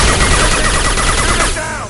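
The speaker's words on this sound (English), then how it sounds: "That fuel tank's coming loose! Shoot it!" Rapid bursts of automatic gunfire in Mass Effect 2 aimed at a loosening fuel tank, a dense, loud, continuous barrage that drops off sharply near the end, leaving a fainter tail.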